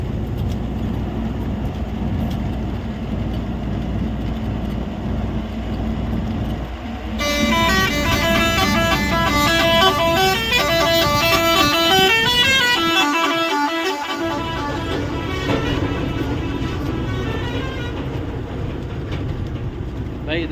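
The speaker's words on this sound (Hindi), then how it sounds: "भाई देख रहे हो कंटेनर में भी भाई कैसे हॉर्न लगे हुए हैं।" Loud, musical multi-tone horns on a container truck play a melodic pattern for several seconds over steady road and engine rumble, with voices talking nearby.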